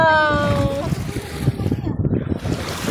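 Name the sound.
strong sea waves splashing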